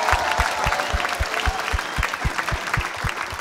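Applause from a comedy show audience, with regular low thumps pulsing under a bright clatter of hands. A steady rhythm runs throughout and the clapping is fairly close and loud.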